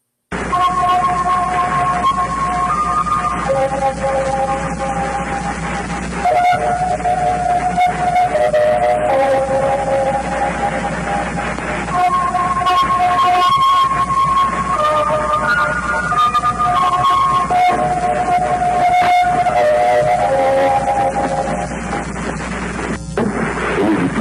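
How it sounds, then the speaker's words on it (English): A shortwave radio interval signal: a simple sequence of steady tones steps up and down, repeating through constant hiss and crackling static. "their interval signal kind of sounds like this"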